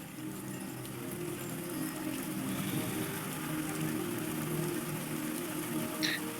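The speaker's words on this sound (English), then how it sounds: "Really peaceful rain coming down in game." Gentle in-game rain patters steadily in a Magic card game, a soft continuous hiss of drops on a surface, quiet and even throughout with no voices.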